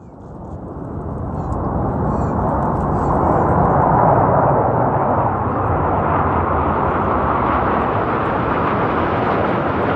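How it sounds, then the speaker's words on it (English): Swedish Air Force aircraft pass overhead in a formation flyover above the shore of an old town, a broad roar swelling over a couple of seconds, then holding as a sustained, rushing drone. "I then gathered with many others on the shore of Old Town to see the Swedish Air Force do a flyover in the shape of a Christmas tree"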